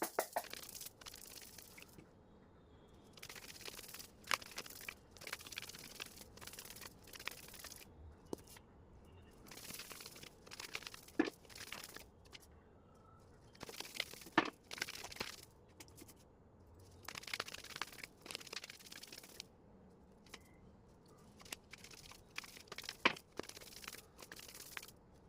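Tarot cards being shuffled by hand: soft, scattered crinkling and crunching rustles in short irregular bursts at close range, quiet overall, with no talking.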